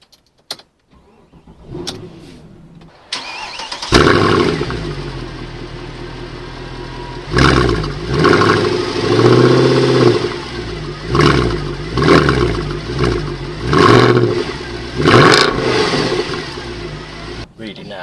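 A 2009 Mercedes C63 AMG W204 with a P30 pack fires up, settles, then is revved repeatedly in loud, sharp bursts with a deep roar between them, close and dominant.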